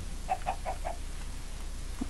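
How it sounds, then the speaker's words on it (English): Chickens in a Minecraft-style video game give a few short clucks in quick succession, then fall quiet over a steady background hiss. "now there's chickens everywhere"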